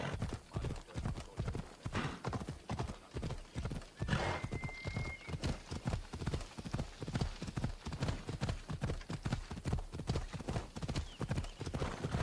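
A horse galloping in Assassin's Creed Odyssey, its hooves pounding in a fast, even, continuous clip-clop close up and loud, with a brief whinny partway through.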